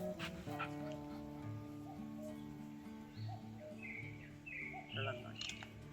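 A dog barks in repeated bursts and whimpers at a countryside house on a mountaintop, with a person talking, birds chirping in the background, and steady low hum throughout.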